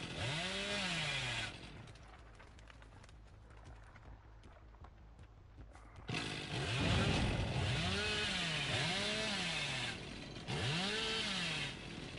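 A chainsaw in Dead by Daylight revs loud and close in rising and falling bursts, with wavering engine pitch sweeps, a quieter idling stretch in between, and no talk.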